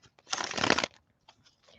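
Tarot cards being shuffled by hand, a dense riffling burst lasting about half a second, followed by a few faint card taps and handling sounds, close and alone without talk.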